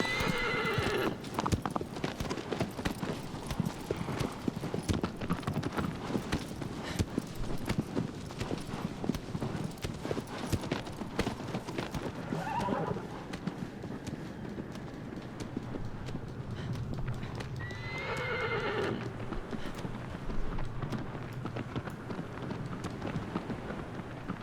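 Horse hooves clip-clop steadily at a gallop across a desert in the video game Shadow of the Colossus, with a few neighs and whinnies rising over the rhythmic, fairly loud pounding.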